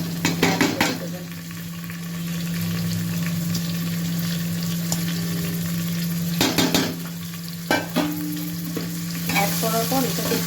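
Soaked masoor dal tipped into a hot frying pan and stirred, with sizzling frying under repeated scraping stirs and clinks of a utensil against the pan, no talk.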